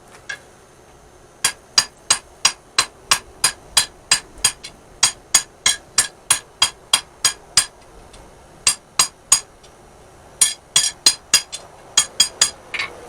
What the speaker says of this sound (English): I'm finished forging that tang out a little more.